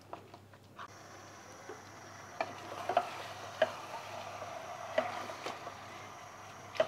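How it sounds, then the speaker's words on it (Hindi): Mutton stirred in a pan over a low gas flame, a faint steady sizzle broken by scattered scraping taps of the spoon against the pan at irregular intervals. "एक बार हम मिक्स करेंगे। गैस का फ्लेम बिल्कुल लो पे ही रखना है अभी हमें।"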